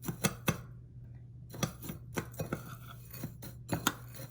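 A spoon scrapes and taps against a bowl as a dry dip mix with dried minced garlic is stirred, giving a run of sharp clinks and clicks separated by short pauses.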